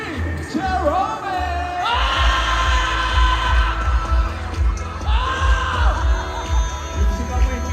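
Fans at a mall event at SM Mall of Asia shout, whoop and cheer for a team during a game with a boy band, loud crowd yells rising in waves under continuous noise.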